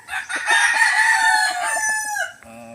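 A rooster crows loudly and close, one long drawn-out call that rises, holds, and trails off, followed by a brief clucking sound.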